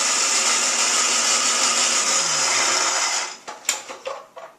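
A blender whirs steadily and loudly as it mixes warm vegetables and chops onions smaller for a tofu spinach quiche, the motor winding down, then a few clunks and knocks of the jar as it stops.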